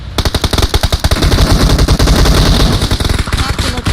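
Rapid automatic gunfire from PUBG Mobile, loud and sustained, with dense bursts of shots rattling almost continuously and overlapping one another from start to finish.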